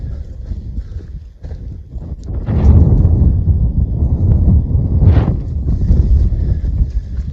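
Strong wind gusting across an exposed, unsheltered campsite, roaring and buffeting the microphone close up, swelling louder partway through and staying heavy to the end, with no talking.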